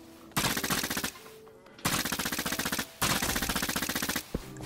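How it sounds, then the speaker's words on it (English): Rapid automatic gun firing in Minecraft Dungeons, three long sustained bursts of fast repeated shots separated by short pauses, loud and close. "I have a gun!"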